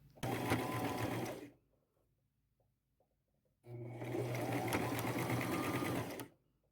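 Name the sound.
sewing machine zigzag stitching fringe onto a dress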